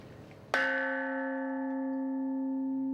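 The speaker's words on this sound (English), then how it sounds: "This is exemplified through Australia's World Peace Bell in Civic Square." The World Peace Bell in Civic Square, Australia, a replica of the United Nations bell in New York, struck once: a sudden loud clang that settles into a long, steady ringing hum with no voices.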